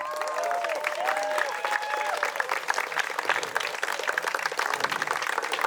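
Crowd applause at an amateur cycling race award ceremony in Kyrgyzstan, steady and moderately loud for several seconds as a finishing time is announced, with voices mixed in.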